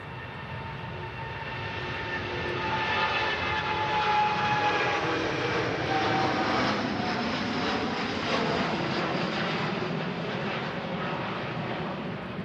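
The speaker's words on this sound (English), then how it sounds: "The A330neo climbing out with power." An Airbus A330neo airliner climbs out after takeoff from Manchester Airport, a sustained broad jet roar that swells over several seconds and holds steady at a distance, with no talk over it.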